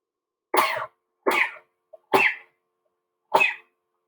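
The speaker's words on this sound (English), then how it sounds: "I sneeze all the time." Four short, explosive sneezes or cough-like bursts at a desk during an online rhyming lesson, evenly spaced and fairly close, each brief and isolated against near silence.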